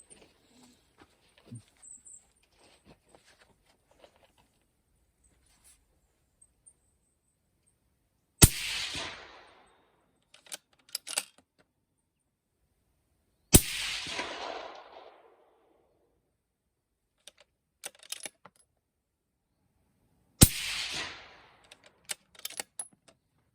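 Bergara HMR 6.5 Creedmoor rifle firing a group, three loud sharp shots spaced several seconds apart, each with a short ringing decay, separated by quiet stretches with faint clicks of handling.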